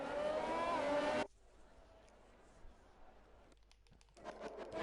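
Race cars on the formation lap at the Hungary circuit, with one engine roaring loudly up close before cutting off abruptly, then a quiet gap and fainter engine noise returning toward the end.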